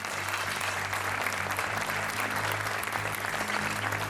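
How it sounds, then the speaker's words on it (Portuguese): Studio audience applause on a Portuguese TV game show, dense and steady throughout, with a low musical hum underneath. "Um aplauso para a Rita."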